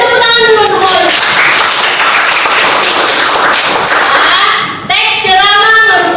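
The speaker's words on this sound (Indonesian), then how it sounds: "beri tepuk tangan dulu semua." Students in a classroom clap their hands together in a loud, close, continuous burst lasting several seconds, with children's voices chattering over it before a brief break and a return of sound at the end.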